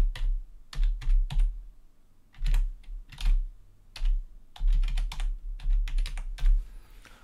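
Keys clatter on a computer keyboard as an email address is typed, coming in quick bursts of close, crisp clicks separated by short pauses.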